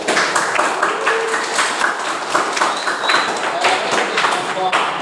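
Students in a CNC machining classroom clap steadily for a group, a dense patter of many hands that continues evenly throughout with a faint voice underneath.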